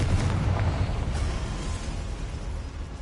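A Confringo blasting spell goes off in Hogwarts Legacy, a loud, deep booming rumble that swells at the start and then rolls on steadily without any talk.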